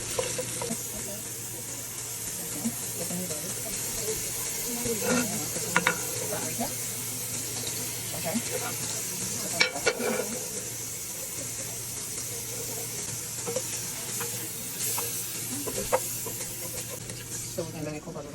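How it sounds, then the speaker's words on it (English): Vegetable fried rice with mushrooms is stirred in a pan, giving a soft, continuous sizzle with scattered light spoon scrapes and clinks. The sound is close but fairly quiet, with occasional faint voices in the background. "Get the spoon and stir it."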